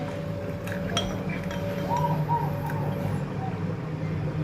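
A spoon stirs a homemade cough remedy of boiling water poured over two kitchen ingredients in a cup, giving light scattered clinks against the cup over a steady background hum.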